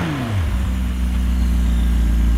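A McLaren 720S engine rumbles loudly through its exhausts at close range, with a falling pitch settling into a deep, steady idle.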